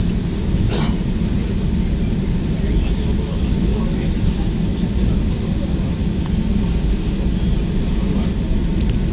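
Steady low rumble and rhythmic rattle from inside the Sealdah Duronto Express, a 1AC coach on the Puri to Sealdah run, rolling through Khurda Road Junction past platform 4, loud and continuous with faint clicks and no talk.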